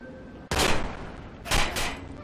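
Gunfire in the video game Watch Dogs: two loud, close bursts of rapid shots, the first about a second long and the second a double burst, separated by quieter background.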